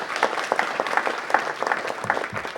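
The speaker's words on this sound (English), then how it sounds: "give him a round of applause for coming out." Applause from an audience at a city council meeting, a moderate crowd clapping briskly and continuously, fairly close and without talk.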